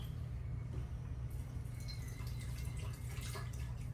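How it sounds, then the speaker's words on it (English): A small amount of water poured into a container of potassium chloride salt during a chemistry demonstration, a steady soft trickling and dripping heard up close under a low constant hum. "So I'm just going to take this thing, add a little bit of water right here,"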